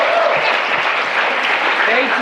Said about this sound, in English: One more round of applause for the guys from Paul